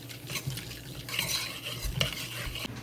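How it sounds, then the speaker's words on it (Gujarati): Chana dal and urad dal roasting in ghee, stirred steadily in a metal pan, with continuous scraping and rattling of the spoon over a soft frying sizzle. "મસ્ત ઘીમાં શેકી દઈએ."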